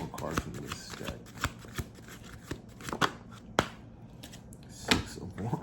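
Tarot cards shuffled and drawn from a deck during a reading, with quick riffling flutters and sharp snapping flicks at irregular moments, close by, and a voice speaking softly underneath.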